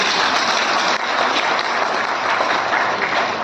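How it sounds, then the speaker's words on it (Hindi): Audience applause at a book launch at the Constitution Club, a dense, loud, steady wash of many hands clapping throughout with no pause. "बहुत बड़ी तालियां उनके लिए होनी चाहिए।"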